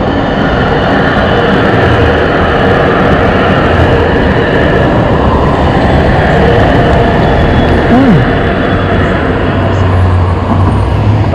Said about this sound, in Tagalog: Oh, may tren.